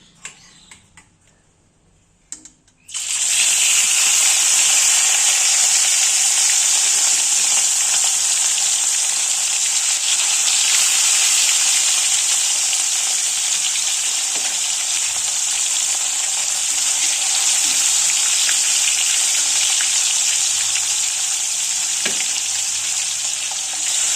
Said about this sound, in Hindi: आमे कौन करबा ना माछ को फ्राई करबा